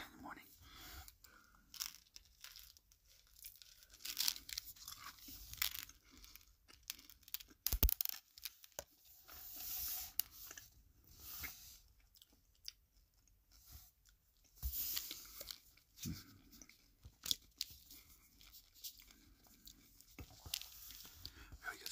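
Halloween M&M's candy gets crunched and chewed close to the mic, with irregular bursts of crisp cracking and softer chewing between them.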